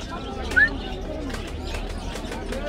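Caged budgerigars and lovebirds at a village market haat in Narsingdi, with a short bird call standing out over steady crowd murmur and chatter.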